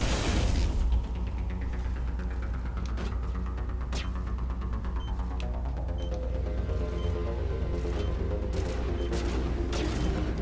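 Dense, sustained video game gunfire fills the scene as a steady fusillade with sharp shot spikes over a booming, throbbing low rumble, loud and continuous throughout.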